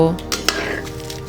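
Cauliflower pieces being stirred in a pot of hot water in a Bengali village kitchen: a few light clinks and scrapes of a utensil against the pot over steady background hum, with faint voice-like tones at the start.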